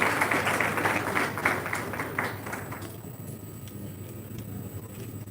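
Applause for the Minister for Works and Housing at a national council meeting, a burst of clapping from a large hall audience that fades after a few seconds into room hum.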